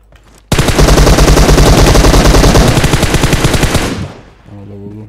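Sustained automatic gunfire in the mobile shooter game PUBG Mobile: a loud, rapid, close burst of rounds that starts abruptly, runs for about three and a half seconds, then cuts off and gives way to quieter game sounds.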